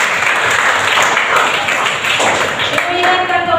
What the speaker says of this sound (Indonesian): Silakan tepuk tangan untuk diri Anda sendiri.